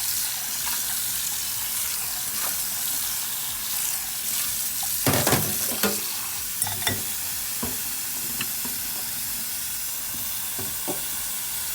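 Tap water runs steadily over Irish moss being washed, a loud continuous close rush with intermittent knocks and splashes as the seaweed is handled, no talking.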